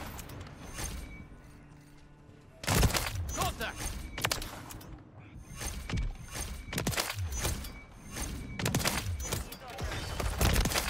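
Sniper rifle fire in the video game Modern Warfare 3, with repeated sharp, loud shots and mechanical clicks and thunks of bolt cycling. The shots come in rapid bursts over continuous game noise.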